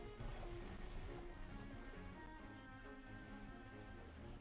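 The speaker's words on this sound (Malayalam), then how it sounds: "നല്ല സ്ലോ ആണ് ഗൈസ് ഈ ബോട്ട്." A slow boat moves across the water in the Roblox game Blox Fruits, giving a steady, faint wash of waves and wind with no pauses.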